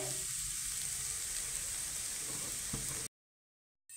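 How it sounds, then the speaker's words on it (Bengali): Papaya pieces frying in a pan for papaya curry, a steady soft sizzle with faint stirring, then sudden silence. "আমি আরেকটু পেঁপেটা ভেজে নেব"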